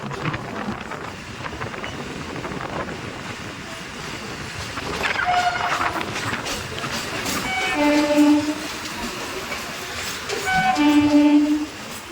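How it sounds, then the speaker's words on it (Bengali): A Kolkata Circular Railway train rumbles and clatters along the tracks into Patipukur station, growing louder, with several short horn blasts sounding near the end. "আমাদের ঢুকছে পাতিপুকুর স্টেশন ট্রেন"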